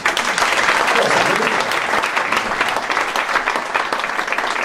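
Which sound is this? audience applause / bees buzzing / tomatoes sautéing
audience applause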